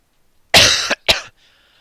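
Two loud, close coughs from a man, a long harsh burst followed by a shorter second one, each with a rough throaty rasp and quiet in between.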